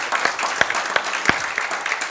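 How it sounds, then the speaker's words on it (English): A church congregation claps hands together, with several loud individual claps standing out over a softer spread of applause, close and brief. "Let's give him another hand clap."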